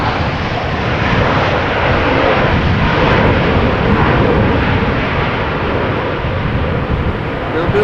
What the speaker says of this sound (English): A little bit of reverse action there.